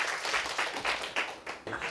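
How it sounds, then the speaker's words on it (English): Applause from a lecture audience at a campus special lecture, a steady round of clapping lasting about two seconds with rhythmic surges, fairly close and without any talk over it. "Let's give him a round of applause."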